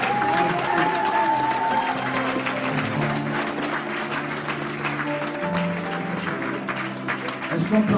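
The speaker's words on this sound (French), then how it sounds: "Est-ce qu'on peut l'acclamer?" A church audience at a programme in Lyon breaks into sustained, loud applause that holds steady throughout, while music and voices carry on faintly beneath the clapping.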